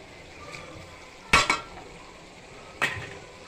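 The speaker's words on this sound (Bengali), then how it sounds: "আমার কাছে ছোট চিংড়ি মাছ আছে, তাই আমি ছোট চিংড়ি মাছ দিয়ে দিলাম" Small prawns are tossed into a cooking pan for a potato and prawn dish, with two sharp metallic clanks of utensils against the pan over a quiet background sizzle, close by and without talk.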